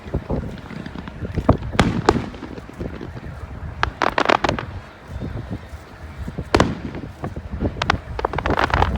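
Fireworks going off at a family outing, a scattered series of booms and cracks at irregular intervals, some louder bursts among fainter distant pops, with wind buffeting the microphone and faint voices now and then.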